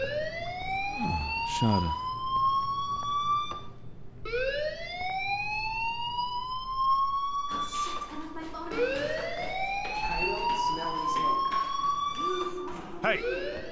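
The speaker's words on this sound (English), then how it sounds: "do you hear that fire alarm?" School fire alarm in the game Life is Strange: a loud rising-and-falling electronic wail sweeping upward in repeated cycles, with someone briefly speaking over it and some clattering early on.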